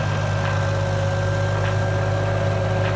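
A loader crane truck's diesel engine idles steadily with a constant low hum and vibration, close and continuous, with faint periodic rises as revs adjust to the crane's power demand.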